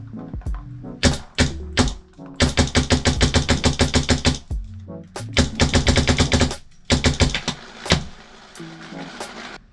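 Test firing of a Planet Eclipse EMF100 paintball marker fitted with a Dye box magazine, crisp rapid strings of shots in several bursts with short pauses and a few single pops, close and loud.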